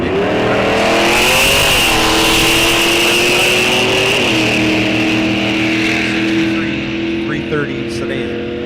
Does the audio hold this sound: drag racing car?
yes